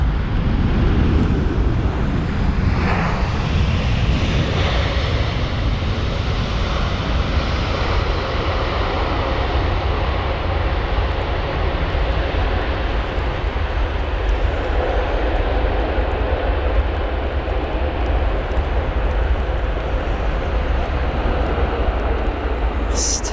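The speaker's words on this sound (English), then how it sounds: "Stunning wet spray from that Aero Mexico jet." An Aeromexico Boeing 787-9 Dreamliner lands at Heathrow in wet weather, a loud, sustained jet engine roar with rushing wind noise that stays steady throughout.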